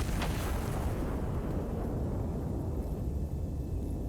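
A loud, heavy gun fires in the Iron Nest video game, opening with a sharp blast and then a dense, sustained low rumble that fills the whole stretch with no talk.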